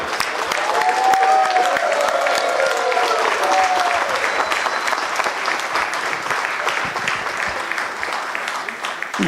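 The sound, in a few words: audience applause for Siddharth Sinkar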